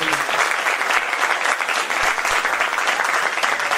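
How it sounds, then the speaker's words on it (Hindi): At a dance summer camp, a crowd gives loud, sustained applause, thick continuous clapping filling the whole stretch without any speaking. "तो एक बार जोरदार तालियां खुशबू मैम के लिए।"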